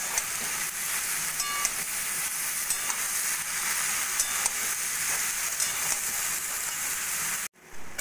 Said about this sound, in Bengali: এবার দিয়ে দেবো আমি সিদ্ধ করা এঁচড়। এঁচড়টাও ভালো করে মশলার সঙ্গে কষিয়ে নেব।